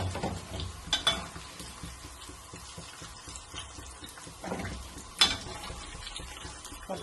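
Cauliflower pieces frying crisp in hot oil, a soft continuous sizzle broken by occasional stirring scrapes and clinks in the pan, no talk.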